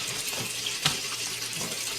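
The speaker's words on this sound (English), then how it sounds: "Turn the water off." Water runs steadily from a tap into a sink, a constant hiss without pause, near and moderately loud, with one small knock partway through.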